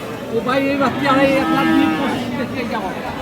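A Sahiwal dairy cow at the Ambari cattle market in Dinajpur gives a long, loud, drawn-out moo close by, with faint crowd chatter from the market behind it.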